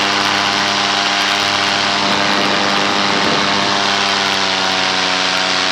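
A light propeller aircraft, apparently a weight-shift microlight, drones steadily and loudly throughout at close range, its engine tone holding constant with no talk over it.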